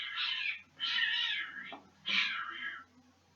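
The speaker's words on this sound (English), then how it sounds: "there were cats fighting outside" Cats fighting outdoors yowl in three long, harsh caterwauls, the last two separated by a brief pause, somewhat distant and muffled.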